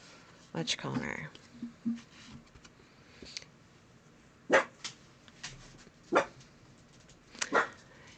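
Dogs bark in short separate bursts indoors, with a few softer whimpers and yips between them.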